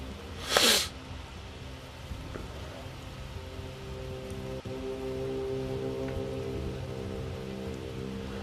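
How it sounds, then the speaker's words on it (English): Soft, steady rain ambience in the video game BELOW, a continuous muted patter under faint low drones, with a brief sharp burst near the start and no speech. "It's just a rainy kind of backdrop."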